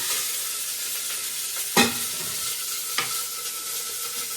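Chopped onions sizzle in hot oil in a pan for a chicken gravy, a steady close frying hiss broken by a couple of sharp clinks and scrapes as they are stirred.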